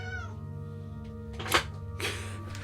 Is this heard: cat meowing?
yes